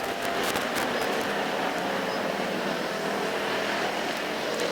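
American Factory Stock race cars roar continuously on the Perris Auto Speedway track. The engine noise is loud and steady throughout, with no talk.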